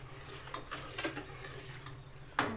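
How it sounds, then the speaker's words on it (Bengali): A spoon stirring sugar in a pot on the stove, giving faint scraping and soft clinks of metal against the pot with a few sharper knocks, no voices. "খুব ভালো করে নেড়ে নিয়েছি"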